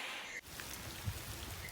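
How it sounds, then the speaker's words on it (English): Heavy rain from an atmospheric river storm in California falls as a soft, steady hiss of drops on surfaces, faint and continuous, with one brief dip in the patter. "A second large rainstorm is hitting California this season."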